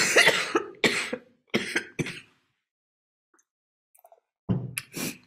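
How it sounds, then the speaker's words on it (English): A run of several harsh, close coughs in quick succession, then quiet, followed by two more coughs at the end. "Apologies for the cough."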